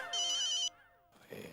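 A phone ringtone chimes loudly in a quick melodic burst, then fades into a softer tonal tail, followed by faint room noise.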